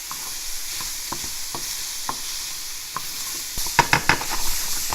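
Zucchini and radishes cook in a pan with a steady close sizzle, punctuated by sharp scraping stirs that grow busier and louder near the end.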